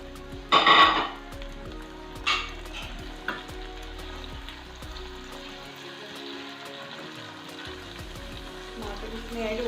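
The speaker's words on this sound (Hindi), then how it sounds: "अब हम डालेंगे इसमें टमाटर।" Tomatoes hit a pan of browned masala with a sharp burst of sizzling, then frying and stirring carries on at a lower level, with a few clinks of a utensil.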